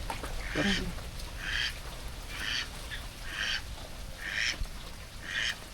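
A duck quacks in repeated short bursts, about six calls spaced roughly a second apart, fairly close, with faint background noise between.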